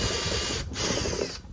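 A hand ratchet fitted with a 1/2 inch steel socket clicks in quick, close, rapid pawl rattles, with two brief pauses, while working on a 2023 Honda Accord bumper.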